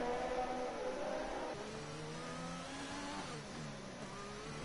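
Race car engine in a sim racing league event at Spa, revving and pulling hard, steady mid-pitched drone with gear shifts shifting the tone, continuous and fairly loud with no talk.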